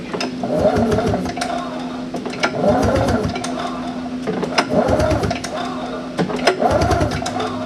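The engine of a 1995 Yamaha Vmax 600 snowmobile is cranked over, giving a steady, rhythmic chugging of repeated compression pulses at close range.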